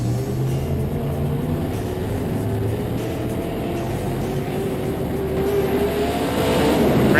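An in-car view of a late model race car on the dirt oval at Eldora in NASCAR Heat 5 holds a steady, loud engine drone at full throttle, swelling a little toward the end.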